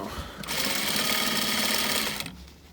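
A sewing machine stitches sofa upholstery in one steady, loud, continuous run of about two seconds, starting abruptly and stopping sharply, with quiet handling noise before and after.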